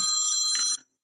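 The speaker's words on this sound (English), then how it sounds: "the phone's ring. It never fails during a show." A telephone bell rings loudly during a live radio show, one sustained bright ring that cuts off abruptly, then restarts at the very end, with no talk over it.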